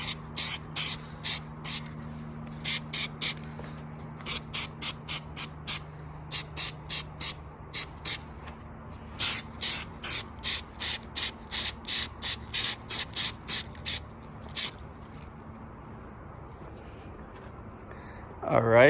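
Short, sharp bursts of an aerosol spray coating hiss in a steady, rapid rhythm as it is applied to an aluminum fender liner for a Toyota Tacoma, close and distinct over a faint background hum.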